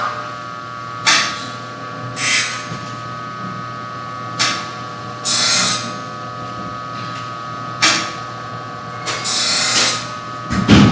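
A bench grinder's steady hum runs throughout as a woodturning tool is pressed to the wheel again and again, giving short, harsh grinding bursts roughly every second or two, fairly close and loud.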